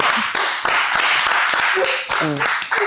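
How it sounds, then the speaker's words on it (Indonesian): Hand clapping from a small group during an Indonesian hangout talk show, a burst of sharp, irregular claps mixed with chatter and laughter, fairly close and loud. "Tepuk tangan dulu dong"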